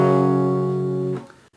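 A single barre chord on rhythm guitar from the pre-chorus of a song rings out loud and sustained for about a second, then is muted and fades to silence.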